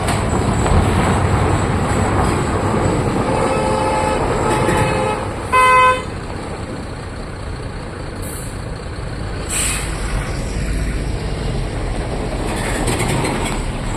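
A forty-ton truck's engine rumbles loudly and steadily throughout, with a single short horn blast sounding near the middle.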